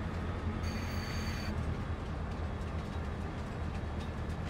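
Train in the Farming Simulator 22 video game rumbling steadily with a low, continuous mechanical drone and a brief high tonal whine partway through, alone without talk.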